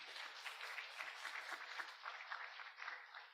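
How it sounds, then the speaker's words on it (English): Students applaud a professor after an expert lecture on hospital partnership, a dense, even patter of clapping heard faintly at a distance. "give the applause to him"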